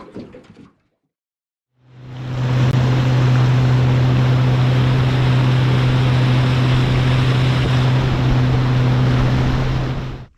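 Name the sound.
salt water running out like a small waterfall into a creek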